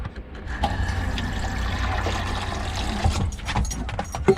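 Water pours steadily into a dog bowl nearby, a continuous splashing stream with a slight change in tone near the end.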